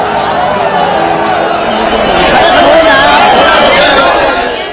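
A huge crowd of devotees gathers at the Maha Kumbh on Basant Panchami at the Sangam, a loud, sustained wash of chatter and distant cheering from many voices that swells slightly toward the middle.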